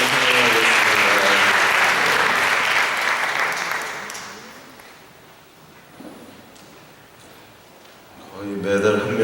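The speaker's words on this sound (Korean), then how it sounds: "우리 잘 다녀오라고 박수로 찬양하겠습니다" A congregation at a church youth service breaks into loud, dense applause that holds for about four seconds, then fades away to near quiet before a voice and some movement return at the end.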